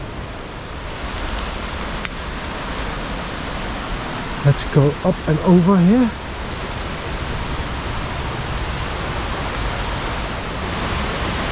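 Waterfall at Oxford Falls in New South Wales bushland, heard as a steady, moderately distant broadband rush throughout, with a person speaking briefly over it.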